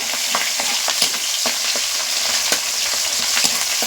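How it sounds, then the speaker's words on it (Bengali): Whole spices (cardamom, cinnamon, cloves), capsicum and green chillies frying in hot oil for a spicy mutton curry, a steady close sizzle with crackling pops and occasional stirring scrapes, no voices. "হালকা করে এগুলোকেও ভেজে নেব"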